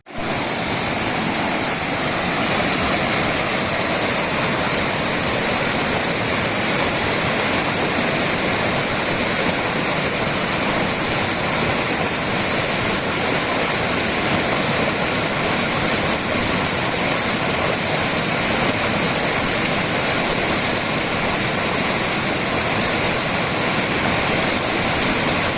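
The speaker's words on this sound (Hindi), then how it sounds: "तो जी पानी आ रहा ज़्यादा" Deep river water flows fast and heavily near a Shiva shrine, a loud unbroken roar and rush that stays constant throughout, with no voices.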